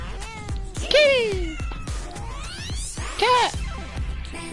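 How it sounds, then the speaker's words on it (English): Cat meowing in the video game Far Cry 3, several loud, close, drawn-out meows and caterwauls in quick succession, with a person talking between them. "Cat!"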